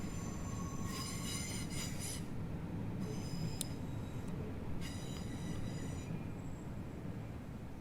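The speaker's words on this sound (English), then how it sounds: "And there goes the train." A train rumbles past in a low, continuous roar, with bursts of high metallic wheel squeal coming and going; the consist is hauled by a BR Class 50 diesel locomotive on the Portsmouth Direct Line.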